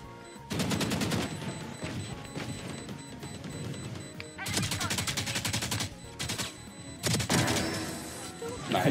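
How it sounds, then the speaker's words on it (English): Gunfire in the Valorant shooter game, rapid bursts of shots cracking over dense game sound effects and music, continuous and loud with short pauses, voices briefly heard in the mix. "You fired some warning shots, it's all good."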